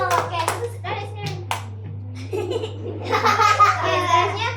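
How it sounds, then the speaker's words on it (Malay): Young children clap their hands for a classmate in a classroom, a few scattered claps joined by giggles and small voices, then a livelier burst of clapping and chatter toward the end. "Tepuk tangan untuk Aaron."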